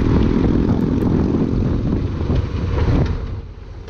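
Motorcycle rolling on the throttle through an intersection in traffic, a steady loud engine roar with strong wind noise that builds slightly near the end, no talking.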